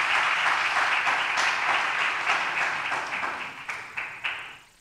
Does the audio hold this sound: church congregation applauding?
yes